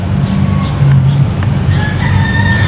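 Native Rhode Island chickens on an egg farm cluck and crow nearby in a loud, continuous flock chorus.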